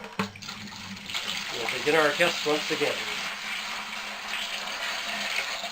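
Water pours steadily into a bucket, a continuous splashing rush that runs throughout, while someone speaks briefly over the start of the pour.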